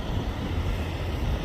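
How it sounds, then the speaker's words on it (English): Steady wind roar buffets a truck out on the highway near Klamath Falls, a constant low rumble of gusting air pressing against the cab with no talking. "it's been windy the last 50 or so miles"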